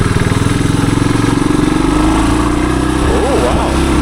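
A 1978 Suzuki DR370 motorcycle engine pulls uphill on a trail, a loud, close, steady thumping single-cylinder drone that climbs slightly in pitch over about four seconds.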